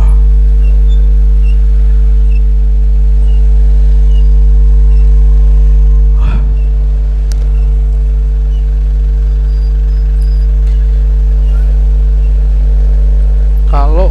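Traffic crawling through a jam on a street in Tembalang, with a steady, close engine drone and low idling rumble throughout, plus a brief louder burst partway through.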